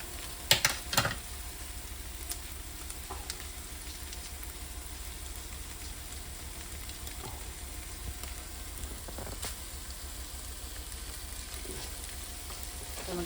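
A pan sizzles with a steady hiss after tomato puree goes in, with a few sharp clatters and taps near the start and scattered faint knocks afterward.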